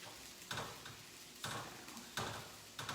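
Vegetables and mushrooms stir-frying in a hot pan, a low steady sizzle broken by a few soft scraping stirs at irregular intervals, faint and close.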